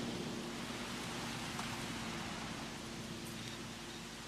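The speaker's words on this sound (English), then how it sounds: "It's raining." Steady rain falls during a storm in the video game Jurassic World Evolution, an even, faint hiss of pattering drops with a low hum beneath and no voices.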